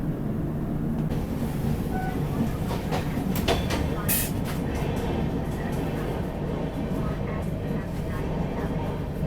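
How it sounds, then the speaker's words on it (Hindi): Tejas Rajdhani Express pulling out of Borivali station, a steady loud rumble of the moving train with faint wheel clatter, while people talk nearby throughout. "निकल रही है अपनी ट्रेन अब बोरीवली से।"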